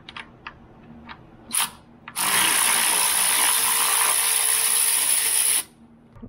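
A ratchet with a 10 mm socket and swivel working the rear bolts on a 2019 Jeep Wrangler Rubicon JL during a Magnuson supercharger install. A few light clicks lead into a loud, sustained mechanical whir of about three seconds that then stops.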